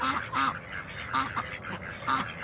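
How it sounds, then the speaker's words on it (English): Mallard and white ducks at a pond quacking in a close, busy chorus, repeated nasal calls overlapping one another. "So, I know that we have a mallard right there. And I actually don't really know what these white ducks are, necessarily."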